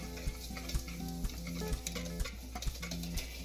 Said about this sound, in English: we're just gonna whisk that together